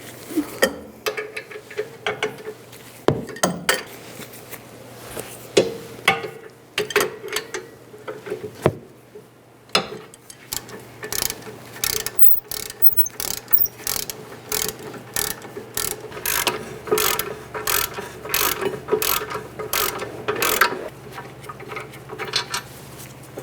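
A ratchet with a 21mm socket turns out the rear brake caliper bolts on a 2008-2017 Buick Enclave, giving long runs of rapid close clicking with short breaks and some metallic knocks, over a low hum.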